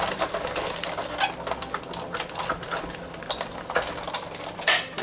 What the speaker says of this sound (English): And die cut it.